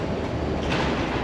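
A train runs through Seattle, a steady broadband rumble and rattle of rail cars heard up close and fairly loud, with no talking over it.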